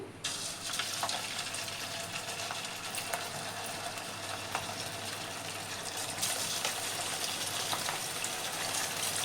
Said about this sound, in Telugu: నూనె కాగిపోయిందండి. ఇప్పుడు వీటిని వేసుకుందాము.